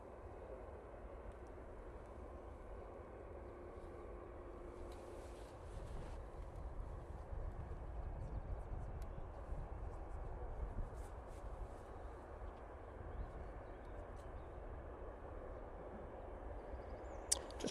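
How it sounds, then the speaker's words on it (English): Pegasus Airbus A321neo jet arriving at Manchester Airport, heard as a faint, steady, distant engine rumble and roar that holds for the whole stretch and swells slightly midway, with no talking. "Next in, we've got the Pegasus A321 Neo coming in from Istanbul."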